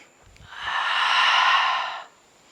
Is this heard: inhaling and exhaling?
yes